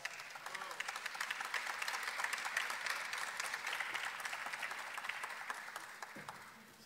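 Sustained applause from a graduation ceremony audience at a spring 2024 postgraduate commencement, steady and fairly loud throughout and tapering near the end.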